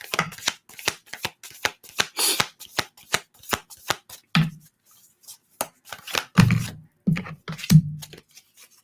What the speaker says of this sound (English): Okay, Joanne, I'm gonna pull some cards for you, okay?